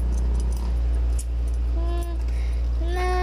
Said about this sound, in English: I have some keys.